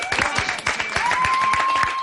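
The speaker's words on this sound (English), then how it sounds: "Big round of applause." A studio audience applauds at a live talent show broadcast, a brief burst of rapid clapping with sustained tones ringing through it.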